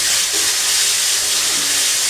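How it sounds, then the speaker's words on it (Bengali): Ginger paste and chopped tomato poured into hot oil with turmeric and chilli powder, producing a loud, dense, continuous hissing sizzle close by. "তারপরে ঢেলে দিচ্ছি এইগুলো আদা বাটা আর টমেটো কুচো।"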